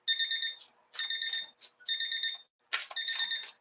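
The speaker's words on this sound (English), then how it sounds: "even though the timer is going off now." A timer alarm goes off in four repeated bursts of bright, warbling electronic beeps, fairly loud and clear, with no voices.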